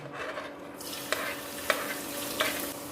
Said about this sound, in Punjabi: ਪਿਆਜ਼ ਤੇ ਲਸਣ ਚੰਗੀ ਤਰ੍ਹਾਂ ਭੁੱਜ ਗਿਆ